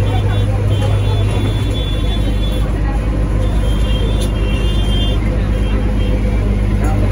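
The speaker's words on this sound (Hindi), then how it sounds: "ये बस जा रही है" A bus passes in busy street traffic, a continuous low engine rumble and road noise filling the whole stretch, steady and close.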